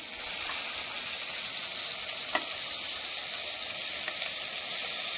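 Onion and tomato frying in hot oil, a steady loud sizzle throughout with a few soft clicks of ingredients or a spoon, no talking.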